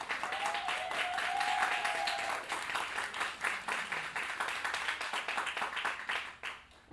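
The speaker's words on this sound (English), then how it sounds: "Let's please give her a warm round of applause immediately" An audience at a literary reading applauds with a dense patter of many hands clapping, steady for several seconds and then thinning and fading out near the end.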